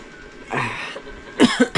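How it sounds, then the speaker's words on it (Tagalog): Three short, sharp coughs burst out near the end after a stretch of quiet rustling, loud and close. "Hirap may ubo."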